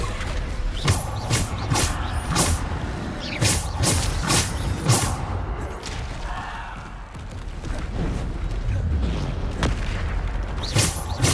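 Bombarda explosion spells cast in the Hogwarts Legacy video game: a sequence of loud booming blasts with crackling debris and mechanical rumbles, repeated at irregular intervals over steady game ambience.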